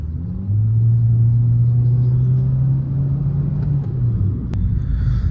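A Hyundai petrol car engine idles in neutral with a steady low rumble, close and loud, holding an even drone with no revving and no talk.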